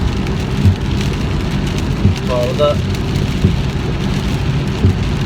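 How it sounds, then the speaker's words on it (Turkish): Heavy rain drums steadily on a moving car, a dense, constant patter with occasional louder drops, while someone speaks briefly over it from inside the vehicle. "ciddi bir yağmur var."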